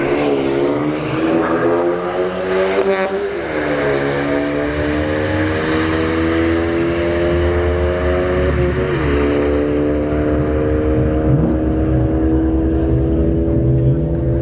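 A Ford Fiesta hatchback drag races down the strip, its engine roaring loudly and climbing through the gears with clear upshift drops, then a sustained high drone. A commentator's voice runs over it.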